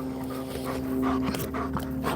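A dog pants close by in a rhythmic run of quick breaths, with faint whimpery sounds over a steady background hum.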